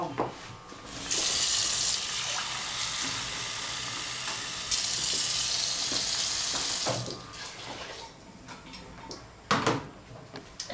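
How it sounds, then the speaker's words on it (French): Water pours into a pot of simmering mafé stew with meat, vegetables and tomato sauce, a loud steady gush lasting several seconds in two runs, followed by sizzling, stirring and clinks close by. "remue l'ensemble des produits et je rajoute de l'eau"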